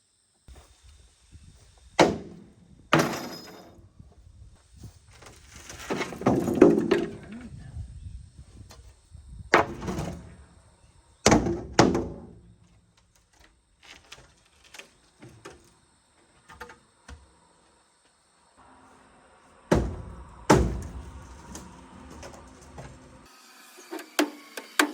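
Old wooden boards being pulled out of a rough, worn dump trailer, a series of scattered knocks, scrapes and clatters of wood at close range with quiet gaps between them.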